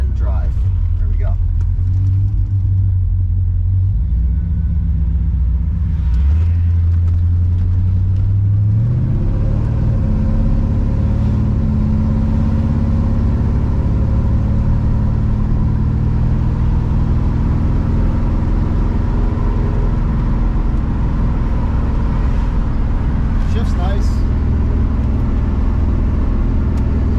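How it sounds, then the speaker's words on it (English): A 1977 Corvette pulls away and cruises, its steady low engine rumble close and loud throughout, with a rising tone as it accelerates early on, and people talk over the drive. "we are headed on the test drive"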